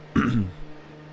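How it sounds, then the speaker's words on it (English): One short, close throat clearing with a rough cough-like burst, then quiet room tone. "so sorry about coughing the way that I am as well."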